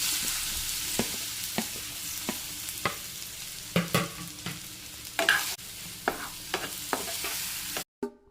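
Sliced ripe banana sizzles in hot ghee in a pan, with a steady frying hiss broken by repeated scraping stirs of a spoon against the pan at close range, ending in a brief clatter.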